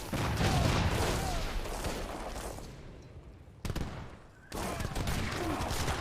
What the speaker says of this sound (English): Ooh, huge volley.